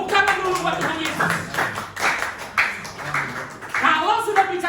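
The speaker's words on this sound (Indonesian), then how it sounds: "Tepuk tangan dulu buat Tuhan Yesus." A church congregation applauds during a Sunday service, with a burst of clapping running beneath a preacher's continuous, prominent speech.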